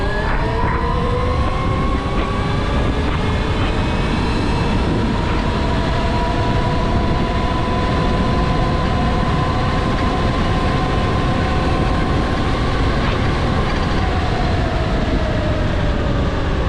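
An Altis Sigma electric dirt bike accelerating in sport mode gives a continuous motor whine that climbs in pitch over loud, steady wind rush, close to the rider with no speech.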